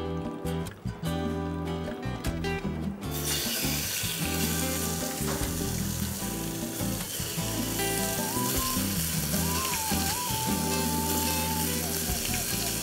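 Turmeric crayfish and prawns hit a searingly hot, dry pan and erupt into loud, continuous sizzling and frying that holds steady throughout, with music and a voice running underneath.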